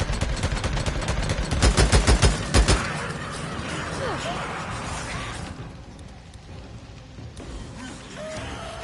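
A barrel explodes in the video game Days Gone, followed by a rapid burst of gunfire with sharp repeated cracks. A long, noisy rumbling wash of game ambience trails after it.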